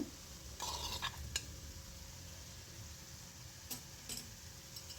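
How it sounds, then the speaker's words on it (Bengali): Spice masala with a little water is stir-fried for egg curry, giving a faint, quiet sizzle with occasional soft scrapes and taps of a spoon against the pan. "দিয়ে আবারও খানিকক্ষণ কষবো আমি"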